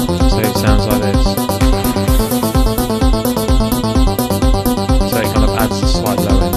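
A bass synth patch built in the Thor synthesizer in Reason plays inside a loud, steady rhythmic electronic loop of repeating pulses and beats, without any talking.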